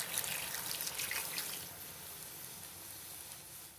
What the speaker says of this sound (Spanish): ahora le voy a agregar ahí una poca de agua para terminarlos de ablandar